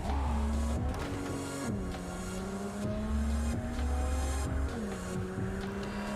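A car driven in a video game, its engine note rising and dropping through repeated gear shifts and revs, loud and steady over a continuous road roar with scattered clicks, no talk.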